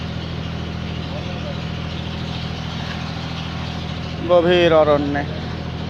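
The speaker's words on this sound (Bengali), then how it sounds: "চলছে আমাদের ট্রলার, হাঁটি হাঁটি পা পা করে।" A trawler boat engine drones steadily while the boat runs through the Sundarbans forest, a constant low hum from start to finish, with a person speaking briefly near the end.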